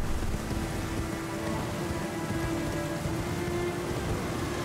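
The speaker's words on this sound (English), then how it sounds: "And it's raining." Steady rain falls in Elden Ring, a dense, even hiss of drops on surfaces with a low rumble beneath, constant and unbroken, with no talk.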